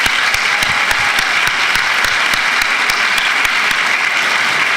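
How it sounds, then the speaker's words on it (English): An audience at a graduation celebration claps steadily and loudly, a dense, continuous round of applause filling the hall without pause. "please give a round of applause to all the family members, partners, and guests here to celebrate their graduating loved ones"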